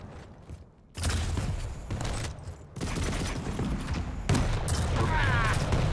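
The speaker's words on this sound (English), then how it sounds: "that rocket opened a lot of damage" Loud bursts of rocket explosions and weapon fire in a Quake 3 arena duel, dense repeated blasts over about six seconds with a brief quieter gap before the first hit, no talk.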